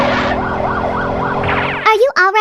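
A toy LEGO ambulance siren wails up and down in repeating sweeps, fairly close, before a voice cuts in briefly at the end.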